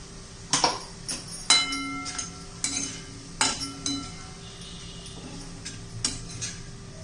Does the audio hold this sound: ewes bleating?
no